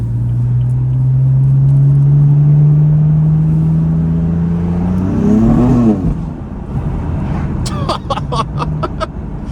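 A BMW M4 engine and exhaust drone steadily at low revs while driving at night, then the pitch sweeps up briefly as it revs before settling, followed by a few sharp crackles; loud and close from inside the car.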